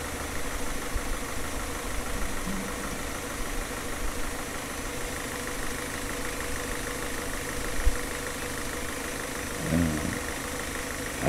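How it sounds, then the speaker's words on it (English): A car engine idles after a fuel injection cleaning, giving a steady, even hum with a low rumble that stays constant throughout, plus a faint bump near the end. "the difference between the noise when we started the engine and the noise now."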